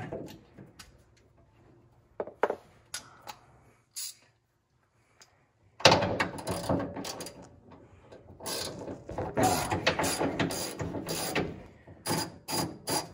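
Ratchet wrench loosening an 11/16 bolt on a 1974 VW Transporter during gas tank removal, quiet scattered clicks at first, then a stretch of dense, loud ratcheting strokes in quick bursts.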